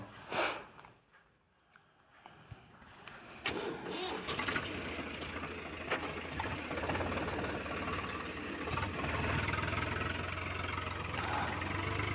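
A few clanks and bumps, then a tractor's heavy diesel engine rumbles steadily and loudly close by on a wheat farm, running on without pause.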